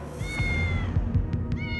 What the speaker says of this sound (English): We heard a cat mewing, but there was no cat anywhere around.